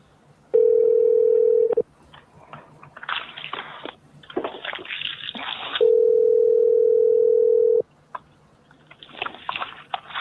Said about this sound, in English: I'm gonna try calling her since it's after 3 and see if she'll answer the phone